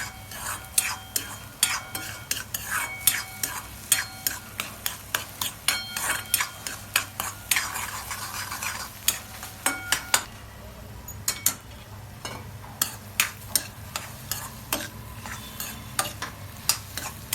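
Egg bhurji sizzles steadily in a pan while a utensil scrapes and clicks against the metal in a quick, irregular rhythm, close and moderately loud, with no talking.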